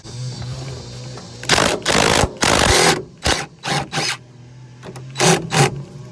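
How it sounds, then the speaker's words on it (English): A small impact wrench spinning a bolt on a Ford F100 shortbed pickup, with several short buzzing bursts of varying length under a faint background hum. "the wrench on one side and that little impact on the other might do us some good."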